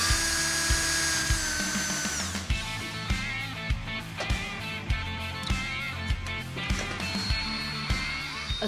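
A power drill whirs continuously while boring holes in a dashboard console panel, with regular knocking pulses as the bit bites in. Nobody speaks.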